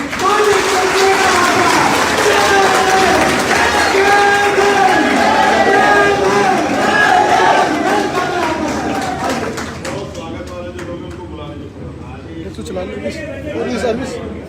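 A large crowd at a Bhim Army rally claps and cheers continuously to welcome Chandrashekhar Azad onto the stage, dense and loud at first and thinning out toward the end, with an announcer speaking over it.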